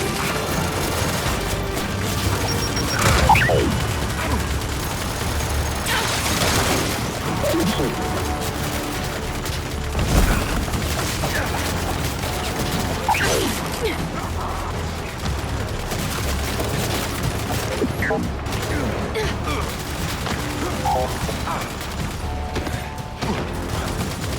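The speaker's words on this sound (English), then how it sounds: "Incoming blast grenade!" A video game firefight with bursts of gunfire, mechanical clatter and booming blasts, including a grenade explosion, layered densely under shouted in-game voices.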